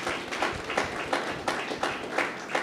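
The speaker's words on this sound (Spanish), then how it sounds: "¿Cuánto me da un aplauso al Señor hoy noche?" Church congregation applauding during an evening worship service, a dense sustained wash of hand claps with rhythmic surges, moderately loud and close, with no voices over it.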